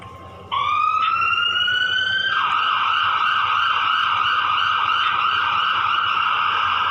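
An ambulance siren starts suddenly, sweeps upward in pitch, then holds a loud, steady electronic wail close by.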